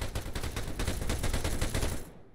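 Automatic gunfire in the military shooter Arma 3 rattles off as a fast, steady burst of closely spaced loud shots for about two seconds, then cuts off abruptly.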